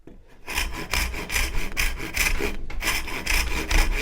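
Steady, close strokes of a hand saw rasp through pallet wood, each push and pull scratchy and even in pace, with a brief pause midway.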